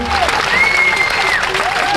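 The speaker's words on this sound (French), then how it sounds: "Alors on peut les applaudir." Loud, sustained applause from an audience at a horse festival, a crowd clapping continuously, with a faint whistle-like tone and some voices mixed in.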